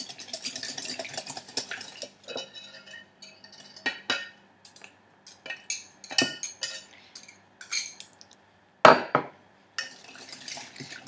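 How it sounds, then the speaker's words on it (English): Lemon cream ingredients being whisked together in a jug, a whisk tapping and scraping the sides in quick uneven strokes with clinks, close and fairly light, one sharper knock near the end. "give it a quick whisk together"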